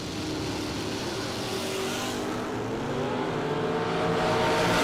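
Class B dragster race car engines rumble and rev at a drag racing event, a loud, continuous roar that builds slightly over a few seconds.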